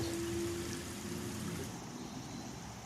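A small river runs past a bridge and ford, a steady, moderately loud rushing and trickling of water with no voices.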